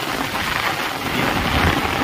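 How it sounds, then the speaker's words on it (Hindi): Heavy monsoon rain pours down on a rooftop beside flooded fields, a loud dense unbroken hiss with wind mixed in. "देखिए कितनी तेज़ बारिश हो रही है"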